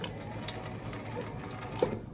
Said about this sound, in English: the Ubermilk will start filling up with the Ubermilk 1